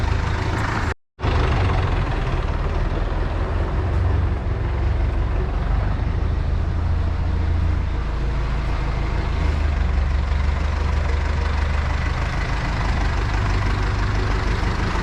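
A tractor engine runs steadily after a light service, a loud continuous low rumble that holds for the whole stretch apart from one brief dropout near the start, with no talking.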